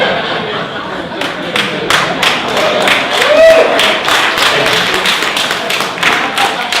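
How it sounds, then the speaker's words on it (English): Audience applause at a talk on teaching writing, a dense, fairly close burst of many hands clapping with scattered chuckles and murmuring voices mixed in. "Please hold your applause till the end."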